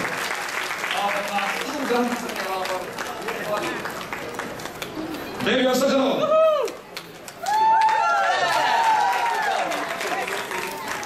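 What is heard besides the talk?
audience applause at a Diwali party quiz game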